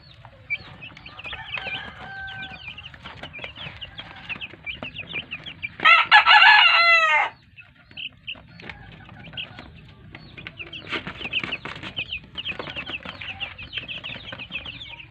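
Chickens, including black Australorps, cluck steadily on a farm, and a loud rooster crow cuts in partway through before the quieter clucking and scattered calls carry on.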